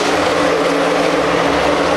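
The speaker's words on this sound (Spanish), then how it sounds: "despegado el helicóptero, ahorita llega tu helicóptero" A helicopter lifts off at a stage show, its engine and rotor giving a loud, steady drone with low throbbing hum throughout, no talk.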